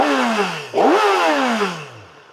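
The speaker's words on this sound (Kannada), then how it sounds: "ನಾನು ಕಂಪ್ಲೀಟು ಎಕ್ಸಾಸ್ಟ್ ಸೌಂಡನ್ನ ಕ್ಯಾಪ್ಚರ್ ಮಾಡಬೇಕಂತ ಪ್ಲ್ಯಾನ್ ಮಾಡಿದ್ದೀನಿ" A warmed-up motorcycle revved hard through its exhaust, a loud close blip that climbs sharply, holds briefly, then winds down to idle, heard alone.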